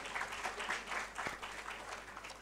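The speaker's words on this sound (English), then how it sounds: "One more round of applause for them," Applause from a conference audience for a panel, a steady wash of many hands clapping at moderate distance, continuous for the whole stretch.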